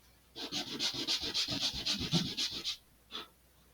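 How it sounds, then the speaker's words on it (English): Rapid back-and-forth sanding strokes on laser-cut wood parts for an Estes Black Brant XII model rocket, knocking off burrs: about a dozen quick rhythmic close rubs, a pause, then one final stroke. "I'm going to quickly take off the burrs on each face of this."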